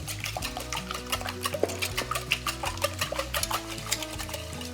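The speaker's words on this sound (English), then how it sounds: "And now I'm gonna whisk all that together." Whisking salt and pepper into a mixture in a bowl, a quick rhythmic tapping and scraping of the whisk repeating steadily, close and moderately loud over faint background music.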